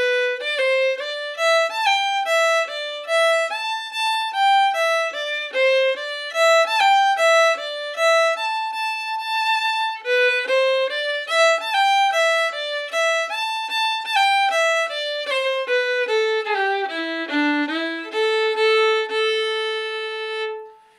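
Solo Irish fiddle plays the second part of the tune Geese in the Bog, with quick cut ornaments on the notes. The bright, clear melody moves in a lilting rhythm of short phrases, close and alone, fading at the end.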